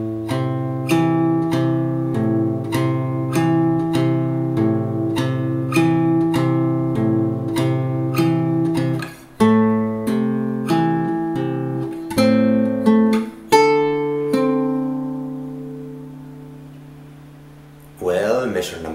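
Fingerstyle acoustic guitar plays a piece from Kung Fu Panda, plucked bass notes and melody in a steady rhythm with a brief pause midway, ending in a fading ring and a short final strum.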